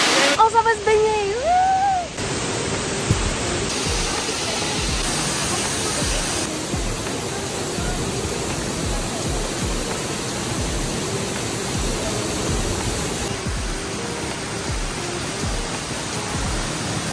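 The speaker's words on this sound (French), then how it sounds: "On vient d'arriver à la chute." A waterfall in Bali roars loud and close as a steady, dense rush of falling water, with a voice speaking briefly at the start before the torrent carries on alone.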